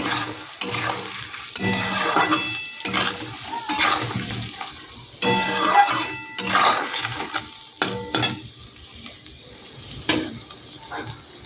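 Shrimp khichuri base being stir-fried with salt in a pan: a run of scraping, clattering strokes with a sizzling, watery hiss between them, arriving in irregular bursts and close to the listener.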